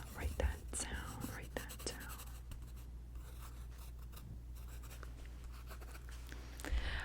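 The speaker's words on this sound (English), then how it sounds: "Write that down." Pen scratching on paper in a quiet ASMR setting, light strokes and taps heard close up at low volume, with soft whispering over a steady low hum.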